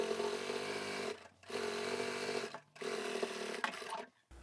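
Sewing machine top stitching a fabric seam onto a bag gusset, a steady close whirring hum in three bursts separated by brief pauses, no talking.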